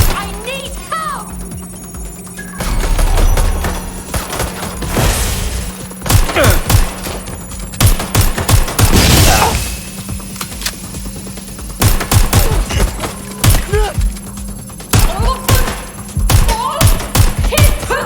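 Bursts of gunfire in the video game Watch Dogs Legion, with rapid volleys and single shots cracking close and loud, broken by short pauses, while voices call out over the shooting.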